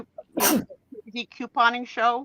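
A single loud, close sneeze bursts out, followed by a person speaking a few words.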